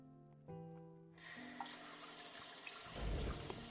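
A kitchen tap in the Love and Deepspace video game opens with a click and pours water into a glass, a steady hiss and splash that swells toward the end, alone and close.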